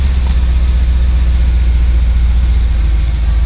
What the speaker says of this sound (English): So I'm going to crank the engine